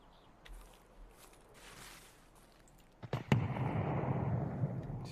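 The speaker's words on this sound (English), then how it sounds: "Still trying to nade shit, is he?" Grenade explosion in a shooter game, a sharp crack followed by a loud rumbling burst that rolls on and decays, preceded by quiet ambient rustles and faint footsteps.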